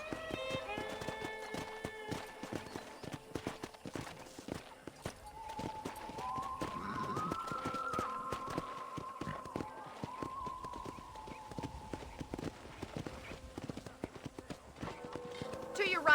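Horse hooves clip-clop at a steady riding pace in the video game Red Dead Redemption, continuous and fairly close, with a horse whinny and in-game music and voices layered over the hoofbeats.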